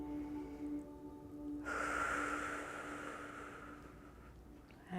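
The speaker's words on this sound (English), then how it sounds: "I'd like to invite you to breathe in as you reach overhead and then breathe out as you press your arm down." Slow, deep breathing during a core-support recovery exercise: a quiet stretch, then a long, close, airy breath that swells suddenly and slowly tapers away, with faint background hum.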